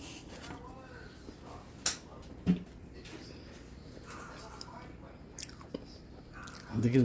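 Someone takes a bite of bundt cake and chews, with a couple of soft crunching bites and quiet mouth sounds up close, alone in a hushed room.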